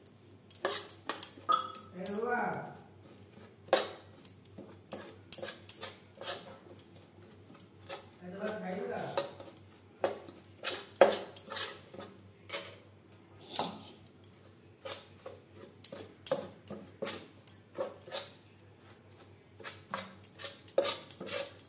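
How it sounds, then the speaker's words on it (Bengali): A spoon mixes into puffed rice powder in a metal bowl, making clicking and scraping taps in irregular bursts, with a voice speaking between them. "এইভাবে খইয়ের গুঁড়োতে মেশাতে থাকবো"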